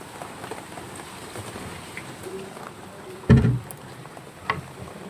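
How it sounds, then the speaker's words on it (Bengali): Steady rain falls outside a balcony on a dark, overcast day, a constant soft patter of drops with one louder splash or knock near the end and no voices. "বৃষ্টি তো সকাল থেকেই হচ্ছে আর এরকম মেঘলা করে আছে পুরো অন্ধকার হয়ে"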